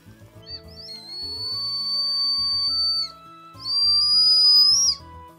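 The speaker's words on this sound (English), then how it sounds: "Blow through the small hole, create a loud whistling sound" Fue Ramune whistle candy is blown through its small hole, producing two loud, shrill, steady whistle tones close by, each held for a second or more with a short gap between.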